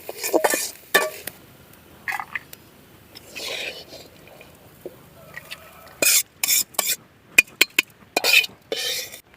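Grated coconut dry-roasting in a pan, a spatula scraping and stirring in short, separated bursts with occasional light clinks of the utensil against the metal, fairly close and moderately loud, with quiet gaps between strokes.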